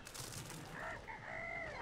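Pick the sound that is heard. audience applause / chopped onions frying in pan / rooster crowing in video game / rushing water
rooster crowing in video game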